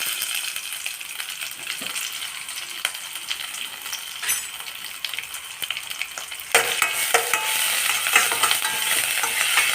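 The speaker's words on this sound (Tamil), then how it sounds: "கொஞ்சம் மிளகு, கொஞ்சம் இஞ்சி, கொஞ்சம் இதுக்கு கருவேப்பிலை தாளிச்சிக்கலாம்" Pepper, ginger and curry leaves are tempered in hot oil with a steady close sizzle and occasional clinks of stirring, the frying growing noticeably louder and fuller partway through.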